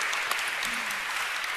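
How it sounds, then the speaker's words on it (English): A conference audience at a women-in-tech event claps, a dense, steady burst of applause that fills the room evenly without letting up. "Give them a round of applause,"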